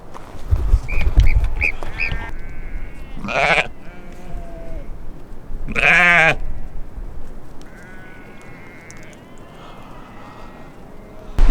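Sheep bleat on a mountain trek in an outdoor meadow, with several loud, close, wavering calls in separate bursts and short gaps between them, while faint voices and wind sit underneath.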